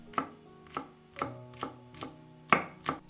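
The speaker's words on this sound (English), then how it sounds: "Slice 1 spring onion." A knife chops through a spring onion on a cutting board in six distinct, evenly spaced strokes, each a crisp close thud with a short crunch, with near silence between the cuts.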